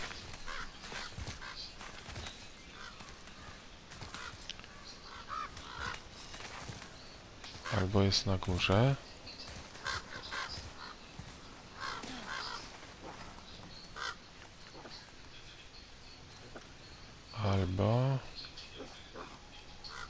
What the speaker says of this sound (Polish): Słychać takiego kruka.